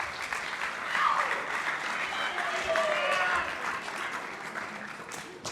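A studio audience gives a coach a round of applause: steady, full clapping from a crowd that swells slightly partway through, then gradually thins out toward the end.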